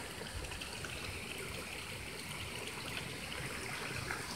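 Water streams steadily through a ravine beside a pond used to store irrigation water, a constant broadband rushing that holds at even loudness throughout, with no voices.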